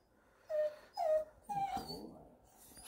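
A rescued puppy, found in the middle of a road, whimpers in three short, high, wavering whines spaced about half a second apart, close by and soft against a quiet background.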